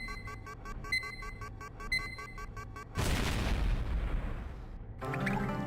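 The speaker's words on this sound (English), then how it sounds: "Yep, kaboom." A heavy explosion rumbles in the video game Fear Effect 2: Retro Helix, cutting in over a beeping alarm-like tone and decaying into a long roar before more game sounds start.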